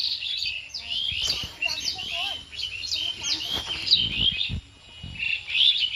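Several small birds chirp and tweet repeatedly in bright bursts around nests among green garden plants, fairly close and continuous, with some low rustling and background noise beneath.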